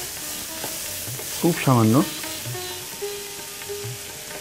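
Banana stem cooking with mustard paste and a splash of water in a pan, with soft stirring scrapes and a low simmering sizzle; someone speaks briefly partway through.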